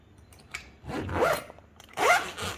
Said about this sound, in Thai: ก็ระหว่างรูดเนี่ยก็ให้ดึงตัวหัวซิปเนี่ย ออกจากตัวกระเป๋าด้วยนะครับ